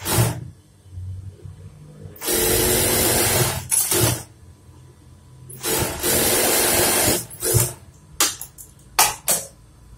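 Sewing machine stitching fabric for Punjabi pants, running in two long loud bursts of several seconds each, followed by a few shorter stops and starts of the needle, with no talking.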